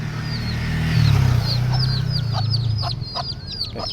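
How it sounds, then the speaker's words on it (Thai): Chickens cluck on Khao Phra Tamnak hill in Pattaya, with a run of short, sharp clucks and chirps picking up midway, close by, over a low steady background rumble. "โอ้มีไก่ด้วย"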